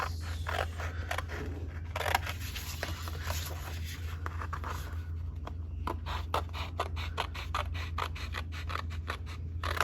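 Scissors snip through a paper card in a series of short, crisp cuts over a low steady hum, close by and moderately loud.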